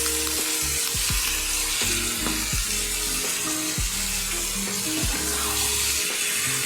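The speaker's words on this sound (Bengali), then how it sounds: "এইভাবে ছাঁকনিটা ছেঁকে জাস্ট সর্ষের ভিজিয়ে রেখেছিলাম তার জলটা দিয়ে এইভাবে" Strained mustard-soaking water pouring into a pan of sizzling chicken gives a loud, continuous close-up frying hiss, with intermittent low bubbling and clinks of stirring throughout and no talking.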